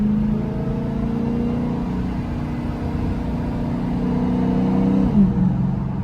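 A Dodge Hellcat with a drag pack being driven, engine droning steadily from inside the car with a faint rising supercharger whine near the end, loud and continuous, no talking.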